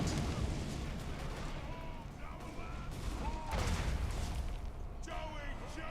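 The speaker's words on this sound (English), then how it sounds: "artillery is hitting the guys sitting outside" Artillery fire in a Total War: Warhammer siege battle, heard as repeated muffled booms and impacts within a noisy, continuous battle roar, with a few whistling projectiles.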